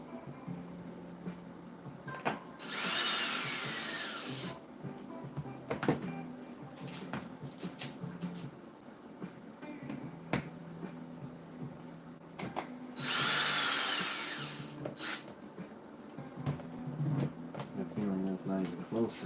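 Power tool driving screws into an RC10T model car during assembly, two loud sustained whirring bursts of about two seconds each, separated by quieter handling clatter and talk.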